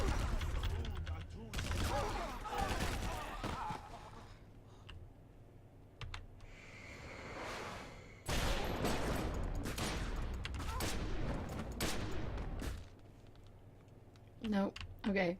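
Gunfire from shooting enemies in Secret World Legends comes in dense bursts of rapid shots, loud and close, separated by short pauses, with mouse and keyboard clicking and a voice talking over parts of it.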